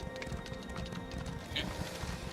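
A horse gallops in The Elder Scrolls Online with steady, rapid hoofbeats that run throughout, moderately quiet under a faint game background, with a soft voice at times.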